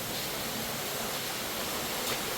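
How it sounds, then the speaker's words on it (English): Steady broadband rush of water from the source of an underground waterfall inside an abandoned mine, a continuous even roar with no voices. "this is the source of the waterfall that we were just seeing"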